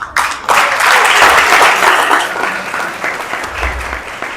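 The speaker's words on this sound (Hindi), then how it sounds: "ये चैरिटी नहीं है ताली बजाना इनके लिए तारीफ करना" Audience applauding students who earned top positions, a dense sustained clapping from a large crowd that fills the whole clip at steady loudness, with no voices over it.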